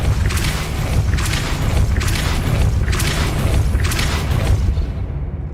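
Repeated magical blast effects from the Depulso spell in Hogwarts Legacy pulse about once per second, five loud booming bursts with rushing noise over a low rumble, no talking.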